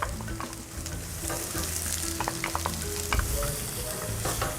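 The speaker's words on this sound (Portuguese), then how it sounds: "Alho douradinho, vamos encaixar agora a nossa cebola." Onion being sautéed with golden-browned garlic in a pan, a constant close crackling sizzle with intermittent stirring scrapes and a faint low hum beneath.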